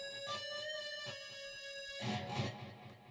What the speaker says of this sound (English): on the 11th you're going to do a full step bend and release back to the 11th